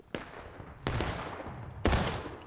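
Civil War rifle volleys crack out on command in War of Rights, three separate ragged volleys of muskets spaced about a second apart, each a sharp burst fading into rolling echoes.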